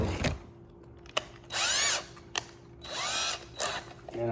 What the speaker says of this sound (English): I'm going to drill into the top of this thing.